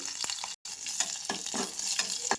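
Mustard seeds, cumin, curry leaves and ajwain fry in hot oil for a masala buttermilk tempering, a dense close crackle with popping bursts and a brief dropout.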